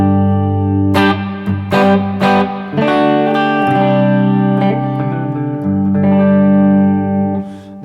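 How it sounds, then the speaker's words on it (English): An electric guitar played through a Bluguitar Amp1 with a little reverb added rings out in sustained chords and picked notes, each strike decaying into a soft wash of ambience, up close and with no talking. "Let's go ahead and add just a little reverb to our overall sound."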